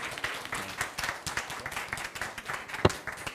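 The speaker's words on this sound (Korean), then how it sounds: "하나님께 영광의 박수를 올려드리겠습니다." A church congregation at a teachers' seminar applauds, a sustained patter of many hands clapping at moderate distance with a few sharper individual claps.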